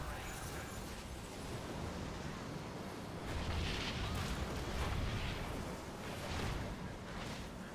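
Repeated bomb blasts during a World of Warcraft mythic raid fight against Sarkareth, a dense rumbling wash with swelling bursts midway, heard under raid voice chat.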